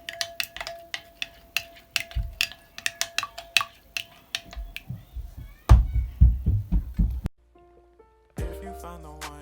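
Broccoli and chicken stir fry being tossed in a pan, with a run of quick close clinks and scrapes of a utensil, then heavier rattling stirs before everything stops and a short stretch of music begins.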